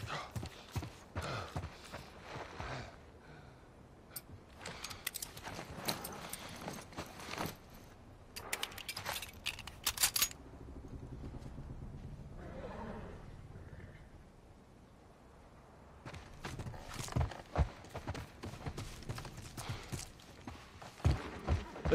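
Horses' hooves clip-clop in an uneven walking rhythm with jangling tack and rustling in The Last of Us Part I, pausing midway under a low rumble before resuming.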